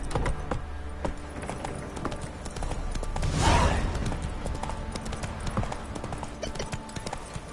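A horse's hooves clip-clop in a steady galloping rhythm across a video game landscape, loud and close, swelling briefly in the middle before settling back under a continuous wash of background sound.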